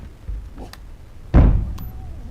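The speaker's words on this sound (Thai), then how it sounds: "มีอะไรมาทุบประตูไม่รู้" Something pounds on a door in the horror game Something In The Well: a soft knock, then one heavy booming thud with a rattling tail, close and loud.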